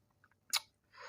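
Fried shirataki noodles with soy sauce are chewed close up, with a faint soft bite and a brief moist crunch followed by quieter mouth sounds.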